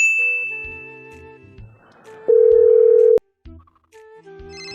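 A mobile phone sounds with an incoming call, a tonal electronic ringtone of beeping notes followed by a long steady tone, then a short pause and further chime-like tones, clear and close with no talk.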